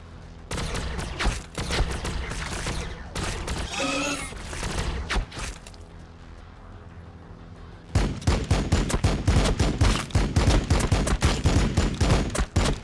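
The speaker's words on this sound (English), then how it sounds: "Taking fire." Battlefield gunfire in Warhammer 40,000: Battlesector: rapid crackling volleys at first, then a quieter rumbling lull, and finally heavy, dense fire resumes with loud overlapping shots.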